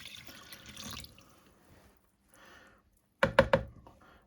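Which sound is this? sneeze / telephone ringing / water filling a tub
water filling a tub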